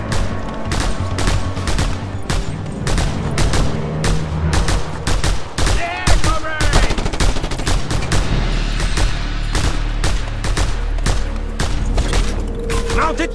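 Gunfire in the video game Just Cause 2, dense rapid bursts of shots cracking in near-continuous fusillades over a rumbling background, loud and close, with brief voices mixed in.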